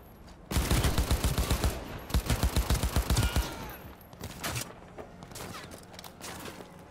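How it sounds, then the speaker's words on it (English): Loud close bursts of automatic gunfire in Cyberpunk 2077, rapid evenly spaced shots in two long strings, then scattered quieter shots and impacts trailing off. "Who's shooting at me?"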